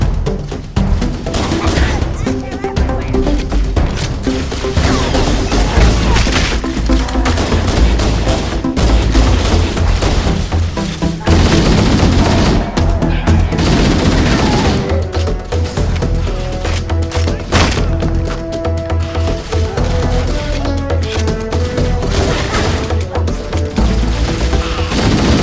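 Dense, loud gunfire from soldiers in Halo CE Anniversary, with rapid automatic bursts, single shots and booming impacts layered over game music and effects, running nearly continuously with a voice talking now and then.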